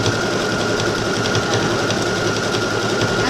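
A 6000i sewing machine stitching a decorative embroidery stitch runs at a fast, steady mechanical whir with rapid rhythmic needle clatter, loud and close, with no talking.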